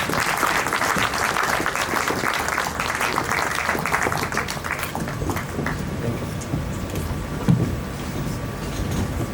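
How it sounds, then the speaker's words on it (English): Sustained applause from an audience at a panel event, steady and dense through the whole span, fading slightly toward the end with a faint voice briefly underneath. "A round of applause for him, please."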